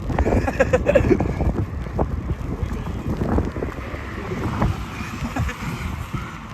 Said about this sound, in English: It's a westerly wind.